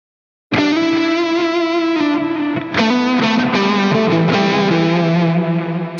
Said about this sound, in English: And then we can bring in the delay.